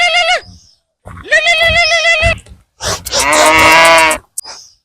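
A cow moos three times, close and loud. The drawn-out calls come in quick succession, with short silent gaps between them.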